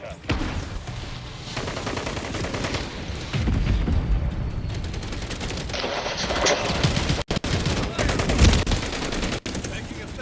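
Sustained gunfire in Modern Warfare 3: dense, rapid bursts of shots with occasional heavier booms. It carries on steadily for several seconds, with brief gaps and voices faintly mixed in.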